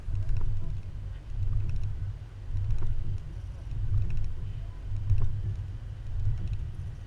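A car carrying a Yakima FrontLoader wheel-mount bike carrier rolls over alternating speed bumps, giving a steady low rumble with periodic swells and thumps about once a second.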